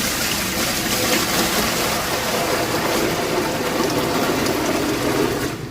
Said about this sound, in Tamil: இப்போ இந்த டேங்க்கில் வந்து நம்ம இந்த தண்ணியை ஆட் பண்ணலாம்.